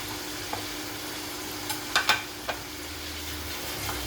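Two tomatoes drop into a frying pan of sizzling biryani masala, with a few soft thuds and clatters over a steady, close frying hiss.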